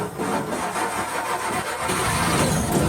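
A Honda car engine is started while already in first gear with no clutch, cranking and catching into a steady idle, close up and alone.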